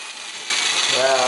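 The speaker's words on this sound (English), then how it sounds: "1/2 inch drill, it is 1/2 inch. So, didn't come with a chuck key. That's easy enough to fix. Let's hook it up." An old 1/2 inch electric drill with no clutch, long left unused, kicks on with a sudden loud burst. Its motor then rises into a whining spin, heard alone and close.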